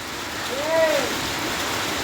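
Rain pours steadily outdoors as a close, even wash of hiss and patter, with a faint voice briefly rising over it partway through.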